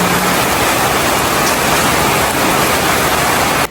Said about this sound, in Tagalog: Grabe, sobrang lakas po ng ulan.